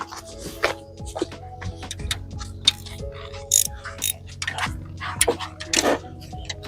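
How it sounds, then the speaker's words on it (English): A ratchet clicks in short, irregular bursts of sharp ticks while backing off two 10mm retaining bolts on a Hyundai engine, close up, with faint mechanical clatter in between. "We got two 10mm bolts retaining this thing, so we're just gonna back them off each side, kind of a little bit at a time"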